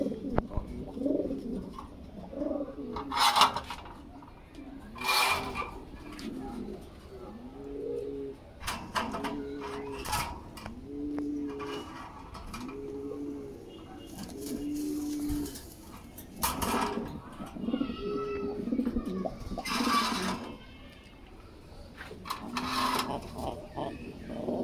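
Red Lahori pigeons coo in low, repeated phrases, fairly close, with faint clicks, rustling and scattered sharp noises around them.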